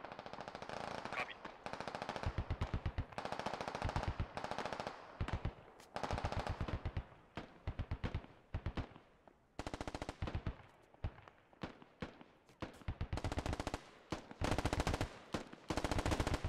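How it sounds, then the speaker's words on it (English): Enemy gunfire in the video game Squad, sustained automatic machine-gun bursts rattling in rapid strings with short gaps throughout, fairly close and loud, with scattered single shots between volleys. "Oh, they're shooting at that."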